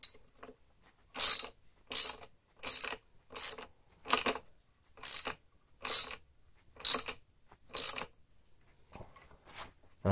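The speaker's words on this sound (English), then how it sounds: "I think I've got something I can tighten this nut up with a bit." A nut is tightened with a hand tool in a series of sharp metallic ratcheting clicks, about ten bursts in an even rhythm, close and clear with quiet gaps between them.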